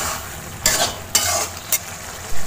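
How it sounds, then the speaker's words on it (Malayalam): Spices and pepper being stirred in a pan for aloo matar masala, three quick scraping stirs over a soft steady sizzle, close up and with no voices. "നല്ല നന്നായിട്ട് ഇളക്കി കൊടുക്കുക."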